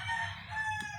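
A gamecock crows during a sparring session, a single sustained harmonic call that runs through the whole second at moderate loudness with no talk.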